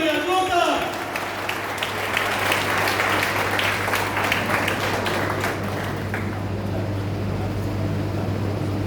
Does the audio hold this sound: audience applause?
yes